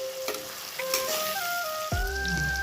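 Onions, tomatoes and green peas sizzle and fry in a pan while being stirred, a continuous crackling hiss with scraping stirs and a few tonal clinks of utensil against the pan.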